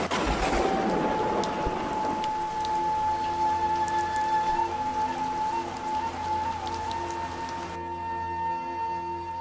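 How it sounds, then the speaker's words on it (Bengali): Steady rain pours down on a village market scene in a Bengali fairy-tale cartoon, a dense continuous patter close by with a thin sustained tone running beneath, no voices. "সবখানেই তো জল পড়ছে।"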